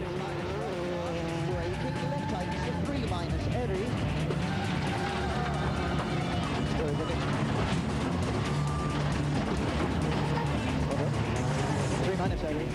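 A rally car racing at the 2004 WRC Rally GB, its engine roaring continuously beneath a commentator's voice.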